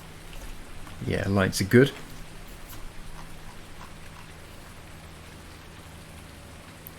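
Steady rain falls all day in a Farming Simulator survival game, a soft constant hiss that runs alone after a short spoken remark at the start.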